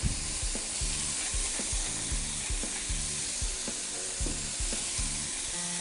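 Burgers searing in a hot pan, a dense, steady sizzle and crackle filling the whole stretch, close and loud with faint rhythmic ticking underneath and no voices.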